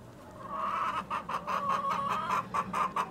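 Several chickens cluck in a backyard chicken run, a close, busy run of repeated rhythmic clucks and squawks coming in quick bursts, with no talking.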